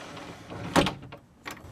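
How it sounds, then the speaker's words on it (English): A small pocket door in a tiny house bathroom slides across once, a short rolling swish and soft knock, followed by a fainter second bump, close by and alone. "It has a little pocket door that slides across."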